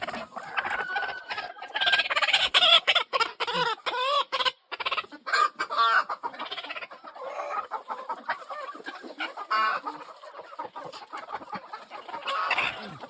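Hens in a farmyard, including a broody hen, cluck steadily and densely throughout, several birds overlapping in a busy, close chorus.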